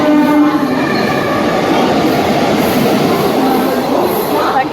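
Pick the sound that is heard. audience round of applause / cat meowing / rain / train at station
train at station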